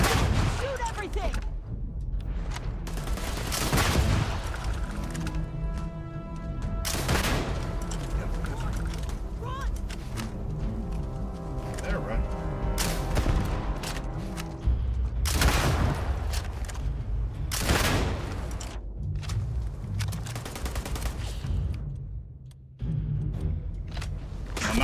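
Repeated bursts of gunfire from a shootout in the space game Starfield, loud and rapid with heavy low booms, mixed with game music and voices shouting over the fighting.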